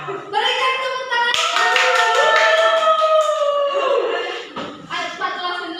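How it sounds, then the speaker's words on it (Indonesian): Classroom clapping after a micro-teaching session, a short burst of hand claps mixed with overlapping student voices and cheering, fairly close and loud, fading out after about four seconds. "Berikan tepuk tangan."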